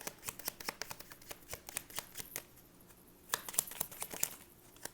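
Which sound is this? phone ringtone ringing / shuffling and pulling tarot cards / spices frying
shuffling and pulling tarot cards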